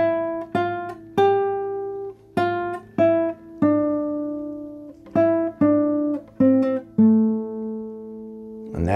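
Guitar picking the first section of the intro to a song, single ringing notes and double stops in an unhurried melodic line, clear and close with nothing else heard.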